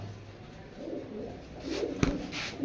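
A pair of Surma khaki pigeons, a male and a female, coo softly and faintly, with a brief sharp knock near the end.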